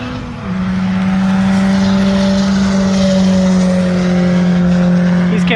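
A 175-horsepower D15 turbo 1991 Honda Civic race car on track, its engine droning loud and close at a sustained high, steady pitch after a brief rise at the start, with wind rush and no speech.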